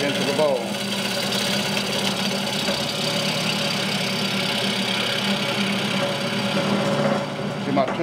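A wood lathe turns a natural edge bowl, a steady loud mechanical hum and whir running throughout with faint scraping of the tool, no pauses.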